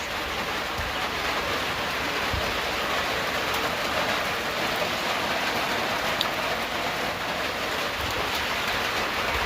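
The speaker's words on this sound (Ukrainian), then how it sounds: "Йде дощ." Steady rain falls in a continuous, even hiss, with no voices and no breaks.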